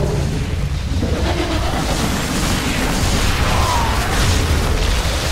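Continuous rumbling explosions from an attack in StarCraft II co-op, a dense, loud wash of booms and blasts with no clear gaps between them.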